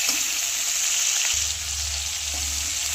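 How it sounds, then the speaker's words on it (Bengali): Large pieces of fish fry lightly in hot oil with a steady, close sizzle and faint stirring, no voices. "মাছটা হালকা করে ভেজে নিয়েছি, এবার তুলে নেব।"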